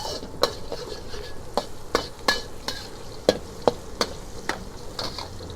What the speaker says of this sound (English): we're gonna infuse it a little bit further with just a little bit of garlic